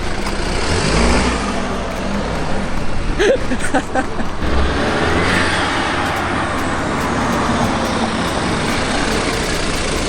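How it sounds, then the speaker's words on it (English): BMW F30 engine with a loud turbo heard from inside the car, a constant dense roar of engine and road noise with a brief rising whoosh midway. "That turbo's loud, huh?"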